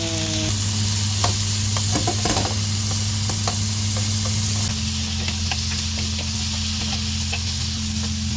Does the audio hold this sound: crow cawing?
no